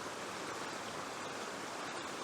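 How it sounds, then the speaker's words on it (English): Water pours steadily down small cascades on a Dartmoor stream at Horse Ford Cross, a constant broadband rush heard close up with no voices. "You can see the water running down"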